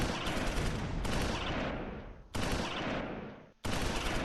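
Dense, sustained gunfire rattles in Close Combat IV, a WWII tactics game battle at Udenbreth, in loud continuous bursts that break off briefly twice before resuming.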